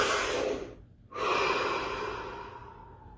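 A single slow deep breath, close and clear: a long breathy inhale, a short pause, then an extended exhale that gradually fades, with no talking.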